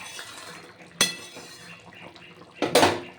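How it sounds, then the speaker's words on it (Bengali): Fish curry in a pot as roasted spice mix is stirred through the gravy, giving a sharp clink of a utensil against the pot, quiet scraping, then a louder burst of clattering near the end. "ভালো করে মিশিয়ে নিচ্ছি ঝোলের সঙ্গে এই ভাজা মশলা"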